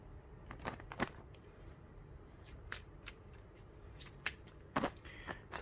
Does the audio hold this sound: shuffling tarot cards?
yes